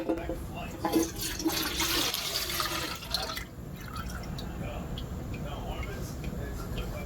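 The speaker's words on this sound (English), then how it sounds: "Pour it into a pour pot." Melted wax pours and splashes into a pour pot, a gushing stream that tapers off into lighter trickling and drips.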